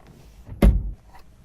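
The driver's door of a 2025 Chevy Blazer EV swings shut with a single solid thunk, fairly close and brief, set against a quiet cabin.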